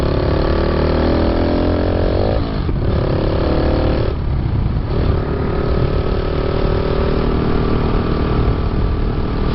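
A motorcycle on a Vietnamese road runs with a throttle sticking at the carburettor slide, the engine droning loudly and steadily, its pitch dipping briefly a couple of times before holding at a high, sustained rev.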